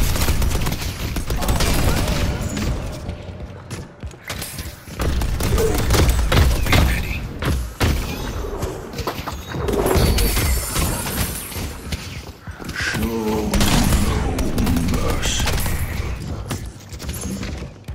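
Turret fire in the Deadlock video game, a dense, loud stream of rapid gunshots and booms that runs through most of the stretch, mixed with other combat effects and impacts.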